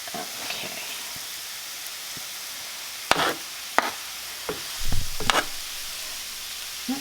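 Bok choy leaves frying in a pan for a shrimp lo mein noodle bowl: a steady, moderately close hiss of sizzling, broken by a few sharp knocks and clatters, with no one talking.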